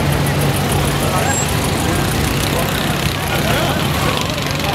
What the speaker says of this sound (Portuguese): 540i série 5 indo embora. V8 alemão.